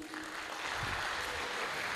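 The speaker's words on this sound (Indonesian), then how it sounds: "Tepuk tangan dulu teman-teman semuanya" Applause from an audience in a village hall during an awards night for a film competition in Gilangharjo, Pandak, Bantul, a steady, fairly soft wash of clapping lasting the whole moment with no talk over it.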